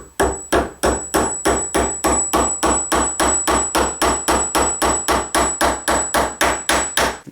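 A hammer strikes steadily at an even, quick rhythm, more than twenty sharp, close taps driving the retaining pin for an SKS rifle's firing pin into place.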